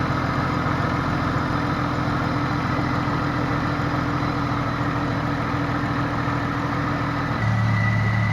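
A Jeep XJ engine is held at about 2000 rpm with its throttle fixed during a Seafoam carbon-cleaning treatment. It gives a steady, close, continuous drone that drops to a lower hum near the end.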